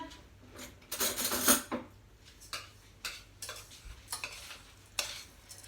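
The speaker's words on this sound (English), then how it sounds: "I'm mixing, of course, my butter with my base all together." A spoon mixes butter into a lemon meringue pie base in a bowl, producing irregular scraping strokes and light clinks against the dish, close and moderately loud with short gaps.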